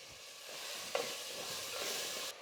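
Pureed tomato and onions sizzling and frying in a pan as the tomato goes in, a steady hiss with a brief clink of a spoon, close and fairly quiet.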